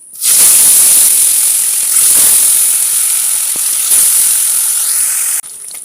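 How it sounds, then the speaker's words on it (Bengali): Koi fish frying in hot oil in a wok, a loud steady sizzling hiss that runs almost unbroken and then drops off sharply near the end. "আবারও আমি মাছ ভেজে নেব।"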